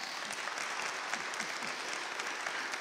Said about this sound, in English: All right, give a round of applause.